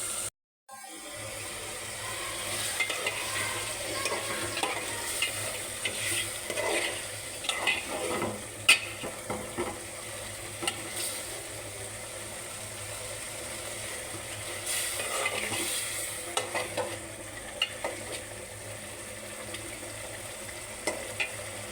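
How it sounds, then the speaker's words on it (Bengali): Snakehead fish is lightly sautéed and stirred in a pan, giving a soft, steady sizzle with scattered scraping and clattering of the utensil throughout. "এটা আমি হালকা কষিয়ে নিব"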